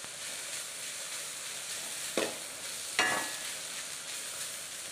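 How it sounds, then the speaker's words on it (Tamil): Carrot and coconut stir-fry sizzling steadily in a pan as it is stirred, with two sharper scraping strokes of the spoon over a constant frying hiss. "தேங்காயும் போட்டு நல்லா மிக்ஸ் பண்ணி விட்டுருங்க."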